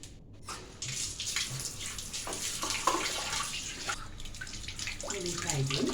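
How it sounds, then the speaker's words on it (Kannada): Running water splashes over a small sharpening stone as it is rinsed clean, a close, steady tap-like flow with brief pauses and shifts in the splash. "ಮೊದಲು ನೀರನ್ನು ನೀರು ಹಾಕಿ ಚೆನ್ನಾಗಿ ಇದನ್ನು ತೊಳ್ಕೊಳ್ಳೋಣ ಫಸ್ಟು"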